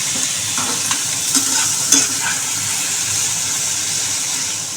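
Spice paste stirred and fried in a pan for a thin fish curry with cauliflower and potato, a steady close sizzle with a few scraping stirs of the spoon, no talk.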